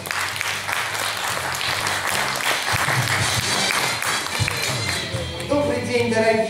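Audience applause at a children's mini-pageant award ceremony, a dense, steady burst of many hands clapping that fills the whole stretch, loud and close, with some musical tones creeping in near the end.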